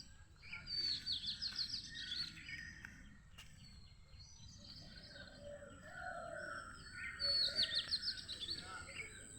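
Many birds chirp and twitter in bursts across a wet, rain-soaked rural morning, some calls near and bright, others farther off, over a soft steady background hiss.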